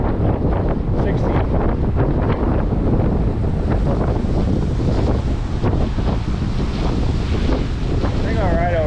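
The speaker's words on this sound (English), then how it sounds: "The waves hitting the rocks." Choppy water along a causeway churns against rocks in a steady, loud wash of surf, heavily buffeted by gusting wind across the microphone throughout.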